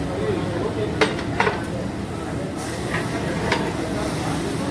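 A ladle scrapes and clinks against a pot while mutton sambar with coriander and mint is stirred, a few sharp metallic taps over a steady background, with a voice talking alongside.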